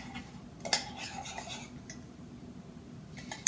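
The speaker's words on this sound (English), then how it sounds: "Alright, I feel like it's pretty good and stirred up." A spoon stirs confetti mug cake batter in a mug, with soft scraping and a few sharp clinks against the sides over about three seconds, faint and close with no talking.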